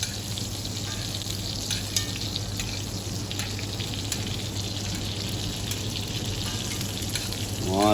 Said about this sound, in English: So your pork chop will fry nicely, get a nice brown color, and then get nourished with fresh hot butter on it.